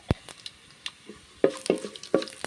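Mustard seeds go into hot oil with browned coconut pieces and give off sparse, sharp pops and crackles at irregular intervals over a faint sizzle, close and fairly quiet with no voices.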